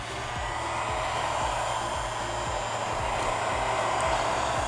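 A steady, loud whooshing roar of a heat gun set around 450 degrees, heating a Galaxy S9 Plus phone for battery removal, runs unbroken with a faint rhythmic low ticking underneath.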